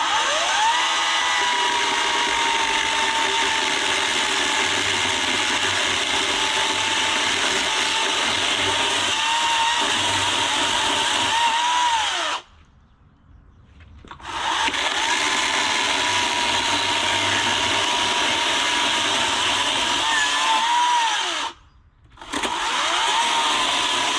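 A Greenworks battery chainsaw whines steadily at high pitch while cutting a notch and hinge into wood, stopping briefly twice before running on.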